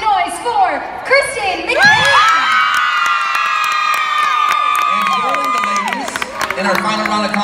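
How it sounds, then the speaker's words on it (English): A crowd at a cheerleading competition finals cheers loudly with high-pitched screams and shouts, sustained and close, rising then gradually tapering off. "And our third senior female finalist, make some noise for Kristen McKay."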